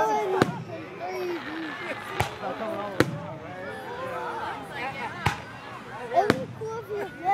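Fireworks shot into the sky and bursting: sharp, loud cracks at irregular intervals, about six distinct booms, while people talk and exclaim throughout.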